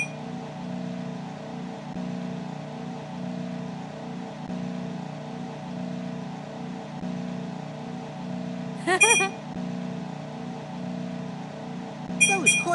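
A cartoon racing car from the Team Umizoomi Math Racer game hums with a steady engine drone, broken by two short chiming blips near the end.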